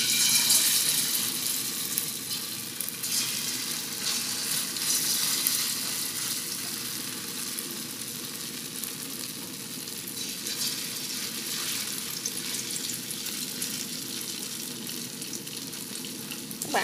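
Vegan crab cakes fry in hot oil in a pan over medium heat, giving a steady, close, dense sizzle and crackle that runs unbroken throughout with no talk.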